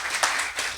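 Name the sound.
church congregation applause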